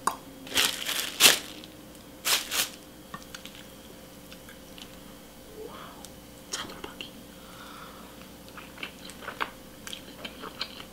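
Close, wet biting and chewing while eating omelet rice and a Jamaican-style grilled chicken leg, a few sharp crunchy bites early then soft squishy mouth sounds, no talking.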